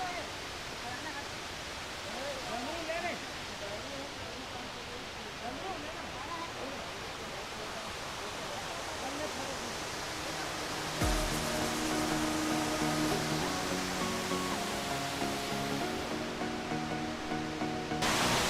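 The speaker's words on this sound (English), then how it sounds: "So that's the Tirathgarh Waterfalls right behind me." Tirathgarh Waterfalls in Kanger Valley National Park, heard as a steady, dense broadband roar of falling water that continues without a break, with the sound becoming slightly louder and harsher partway through.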